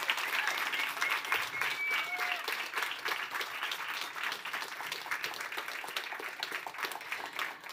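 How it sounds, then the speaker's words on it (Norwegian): Sustained applause from an audience, many hands clapping steadily and densely, moderately loud with a faint voice underneath. "Og så må dere gi en ekstra stor applaus til den første som kommer opp på scenen"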